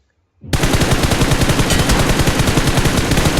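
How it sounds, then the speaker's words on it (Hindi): Sustained rapid automatic gunfire in the video game BGMI bursts in abruptly after a short silence and continues loud and steady, with dense rhythmic shots. "यहाँ पे अब हम देते हैं इसे फायरिंग"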